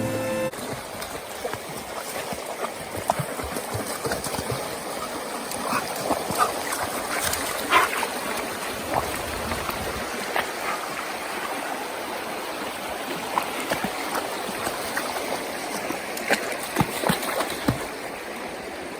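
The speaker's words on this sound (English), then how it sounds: "a year-round creek, springs" Steady rush of creek water flowing over rocks, with bright splashing and gurgling textures, continuous and fairly close, no voices.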